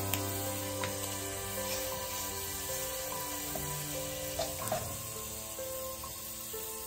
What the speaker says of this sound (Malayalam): ഉലുവ ഒന്ന് പൊട്ടി വരട്ടെ.